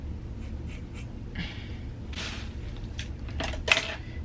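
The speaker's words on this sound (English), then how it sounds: "I'm just gonna cut it. Big chop." Scissors snipping through the hair of an old wig in a big chop, with a few soft scattered cuts and rustles close by, ending in one sharper metallic snip.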